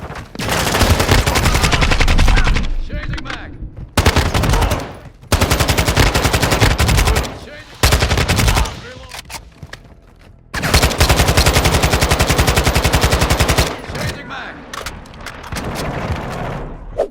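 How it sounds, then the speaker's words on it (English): An AK-74U fires in rapid full-auto bursts in a shooter game beta, loud and close, with several long strings of shots separated by short pauses, without any speech. "another weapon that I liked was actually the AK-74U"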